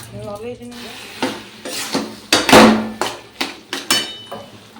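A metal pot being scrubbed and washed gives off a run of sharp, close clanks and scrapes, irregular and loud, over a low running background.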